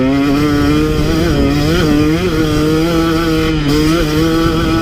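A KTM 150 XC W two-stroke dirt bike engine screams at high revs close up and loud, its pitch dipping and climbing again as it shifts between gears, with no voices.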